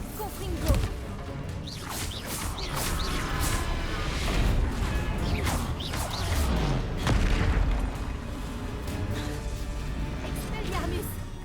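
Explosive spell blasts from the Hogwarts Legacy video game, repeated booms and crashes amid combat whooshes, with a player speaking over the action.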